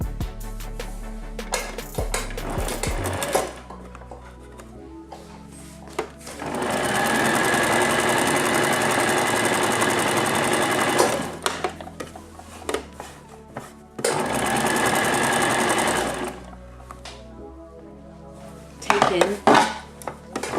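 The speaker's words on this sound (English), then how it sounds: "What you need to do now is use a straight stitch for this one" A sewing machine runs a straight stitch on a jacket in two long, loud bursts of rapid whirring needle strikes, separated and followed by quieter handling clatter and small knocks.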